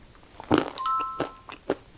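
Several crisp crunches of mixed nuts being bitten close to the mic, a few sharp bites spaced irregularly with quiet between them.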